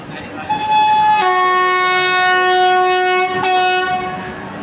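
A train at Surat railway station sounds a long, loud horn blast for over two seconds, then a shorter second toot, close by, with a faint voice in the background.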